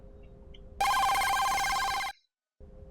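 A telephone bell trills for about a second and a half, a loud, bright electronic ring that starts abruptly and cuts off into silence before faint room hum returns.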